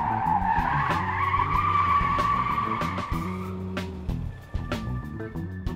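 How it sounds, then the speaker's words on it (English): A car does a smoky tire burnout in New Zealand, with a loud, sustained screech over a revving engine that settles into idling rumble and scattered sharp pops near the end. "someone laying down a fat, smoky burnout while we were preparing to leave"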